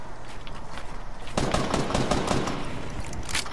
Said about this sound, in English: Somebody's shooting me from somewhere.